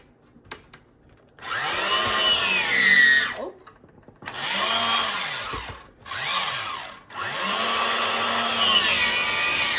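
A hand-cranked embossing machine for card making pulls a card through embossing folders in several cranking passes, each a loud mechanical grinding rumble separated by short pauses.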